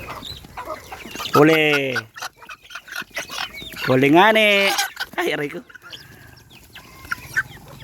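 Chickens cluck and squawk loudly up close in a couple of agitated bursts, while people talk over and between the calls.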